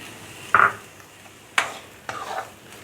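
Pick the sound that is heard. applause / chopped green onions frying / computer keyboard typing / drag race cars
chopped green onions frying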